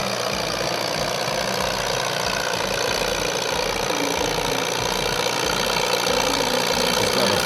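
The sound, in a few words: antique tractor engine under throttle during tractor pull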